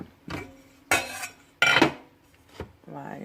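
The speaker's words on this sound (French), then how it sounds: "Donc, prenez une petite casserole." Several sharp metallic clanks and knocks of a small saucepan being handled and set on the stove, spaced irregularly, close by with no talking.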